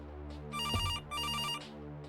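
An electronic telephone rings in the video game Kathy Rain, two steady warbling bursts over a constant background music bed, fairly loud and alone.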